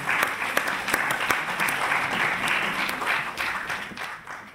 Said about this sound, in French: Et on vous applaudit aussi